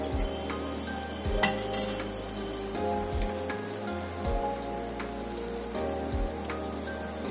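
Ground masala paste is sautéed in a pan over medium heat for misal, giving a soft, crackling sizzle with occasional stirring scrapes over a low steady hum.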